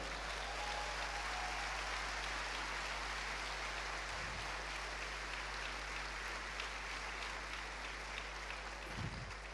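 Congregation applause at a church sermon during a ministerial congress, a steady, even wash of many hands clapping that fills the whole stretch without speech.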